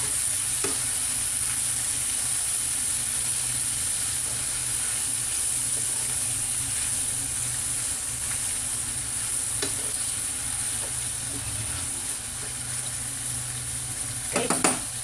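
Chicken intestines sauté with black pepper and bay leaf in a pan, giving a constant close sizzle with occasional scraping stirs and a brief clatter near the end.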